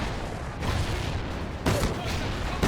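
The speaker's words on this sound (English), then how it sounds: "Let's throw some grenades." Heavy, muffled grenade blasts and rumbling gunfire fill a Call of Duty: Ghosts combat scene, with two sharper explosive bursts standing out over a constant loud roar.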